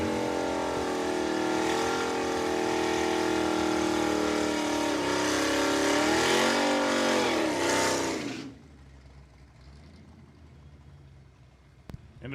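A Fox Body Mustang drag car idles loud and close after its burnout at a bracket-racing strip, its engine note shifting in pitch for about eight seconds before cutting to quiet, with a brief sharp click near the end.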